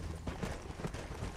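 Horse hooves clip-clopping in the Red Dead Redemption video game, a quick run of soft, muffled steps at a trotting rhythm, quiet and alone.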